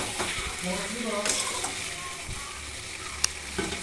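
Meat sizzling in a thin wok after a little water is added, a steady close frying hiss with occasional light clinks, and a person talking over it.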